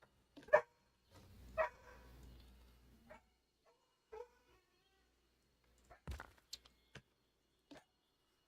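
A few scattered dog barks, sharp and spaced apart, come through a quiet indoor setting, with a couple of louder yaps near the start and softer ones later.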